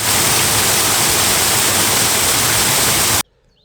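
A hidden waterfall of iron-stained chalybeate spring water in Bedgebury Forest pours in a dense, steady, close-up rush of white-noise-like splashing, then cuts off abruptly near the end.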